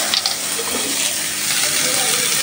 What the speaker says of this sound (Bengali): পেঁয়াজটা ভাজবো মাছের সাথে দিয়ে দিব